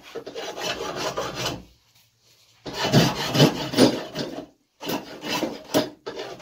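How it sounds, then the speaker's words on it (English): A rasp roughs up a wooden axe handle in three bursts of rapid back-and-forth grating strokes, split by short pauses. The sound is close, coarse and loud, with no talk. "Take your rasp. Rough that up."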